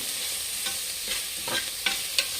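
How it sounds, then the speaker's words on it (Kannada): Fenugreek greens cooking in a pan for menthya bath, a steady soft sizzle with a few scraping stirs of a spoon against the pan, close and without speech. "ಸೊಪ್ಪು ಬೇಯ್ತಾ ಇದೆ"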